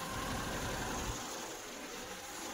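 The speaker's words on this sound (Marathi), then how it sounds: "हे पा गाडी अजून चालू आहे" A parked car's engine left running in hot sun gives a steady low idling rumble under a broadband hiss, and the low rumble drops away after about a second.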